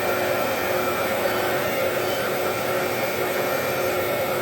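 A foam cutting machine shaping foam pieces gives a steady, loud, broadband whir with no pauses or changes in pitch, alone without voices.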